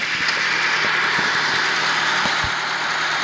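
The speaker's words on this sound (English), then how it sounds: "It's a little slow to crank, as you just heard, so we're gonna need a battery." The starter of a 2004 Ford Focus SVT turns the engine over slowly on a weak battery, producing a steady mechanical whir with evenly spaced, labored thumps, close and continuous throughout, no voices.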